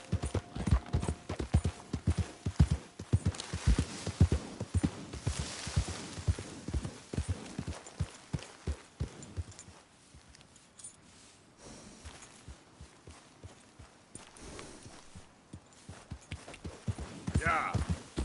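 Steady clip-clop of a horse's hooves walking at an even pace in a video game, close and distinct, easing off midway before picking up again.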